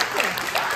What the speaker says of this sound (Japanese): 拍手ね。